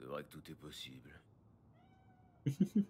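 A cat meows three times in quick succession inside the Cyberpunk video game, loud and close, following a stretch of French conversation and a quieter pause.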